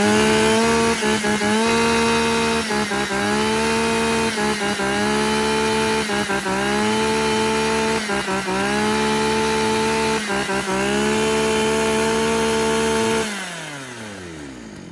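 A used Japanese chainsaw engine runs loudly and steadily, its buzzing pitch dipping and rising in repeated revs, then winding down sharply near the end.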